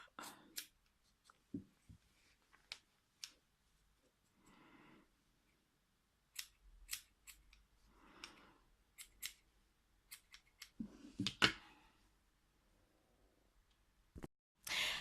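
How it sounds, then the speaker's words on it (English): Scissors snip stray fibres while shaping a fox face, giving sharp, close, quiet cuts in scattered bursts and small clusters, with soft rustling in between and brief faint speech. "And a bit of snipping later."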